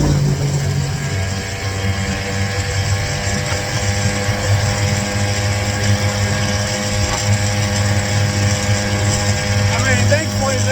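A 49cc gas scooter engine droning steadily while riding along a highway shoulder, a loud constant buzzing hum with wind rush throughout and a voice talking over it.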